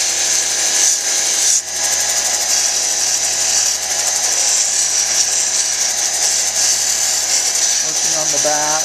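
A steady high-pitched grinding whir as a chrysocolla stone is sanded on a 600-grit lapidary wheel, loud and close, with a brief dip near the start and faint talk underneath.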